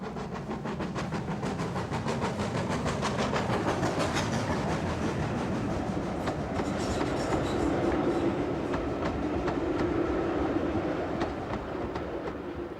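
GWR steam locomotive 7827 Lydham Manor, a 1950-built engine in 1920s lined livery, runs on the Torbay line, making a continuous rolling rumble with a fast, steady clickety-clack of wheels, heard close and without voices.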